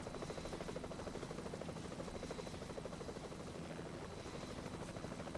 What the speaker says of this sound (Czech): nevím teda jestli se hejbe vrtulník